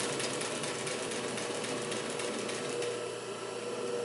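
Pfaff 145-H3 industrial triple-feed sewing machine stitching in reverse through thick layers, a steady fast whirring and rapid needle chatter, close and continuous.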